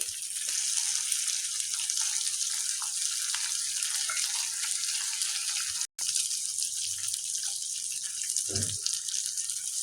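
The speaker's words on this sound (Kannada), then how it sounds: "ಸ್ವಲ್ಪ ಫ್ರೈ ಮಾಡ್ಕೊಂಬಿಡೋಣ. ಕಂದು ಬಣ್ಣ ಬರೋ ಗಂಟ ಫ್ರೈ, ಹಸಿ ವಾಸನೆ ಹೋಗಬೇಕು." Mustard seeds, chana dal, urad dal and cumin frying in hot oil give a steady, even hiss of sizzling throughout, with one brief low thump near the end.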